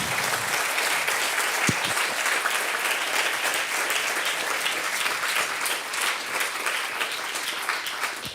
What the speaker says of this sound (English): please, one round of applause more for Ruth Mace